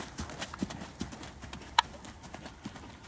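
Soft horse hoof clops tap out a steady trotting rhythm on soft ground in a dressage arena, fairly quiet, with one sharper click partway through.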